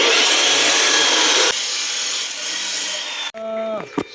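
A power tool saws through roofing material at close range on a rooftop project in Bimmaley, Pangasinan, giving a loud harsh grinding rasp. The rasp shifts pitch partway through, then cuts out abruptly, leaving brief ringing tones.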